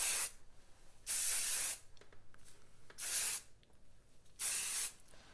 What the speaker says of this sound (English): I hold my hair up and spray in